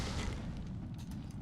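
Deep, rumbling explosion blast from the horror action video game The Suffering, a sustained boom with heavy low-end energy and faint crackling debris that holds steady for over a second.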